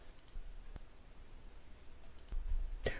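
Typing on a computer keyboard during a command-line tutorial: a few quiet, sparse key clicks, spaced apart and ending with a sharper keystroke, over a faint room hiss.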